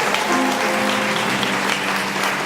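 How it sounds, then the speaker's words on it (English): Applause breaks out in a concert venue for a guest in the audience, with a steady wash of clapping and a faint voice or tone briefly audible underneath. "Give him a huge round of applause"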